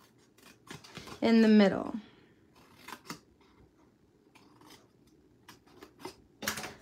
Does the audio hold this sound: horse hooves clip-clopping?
no